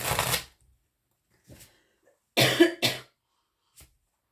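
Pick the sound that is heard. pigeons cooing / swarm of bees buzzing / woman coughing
woman coughing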